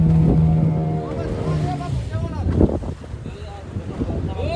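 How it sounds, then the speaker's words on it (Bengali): Large boat under way on the sea off Goa, a steady engine drone with wind buffeting the microphone, while people talk over it. "ছোট্ট একটা বোট করে এসে পৌঁছলাম আর একটা বড় বোটে।"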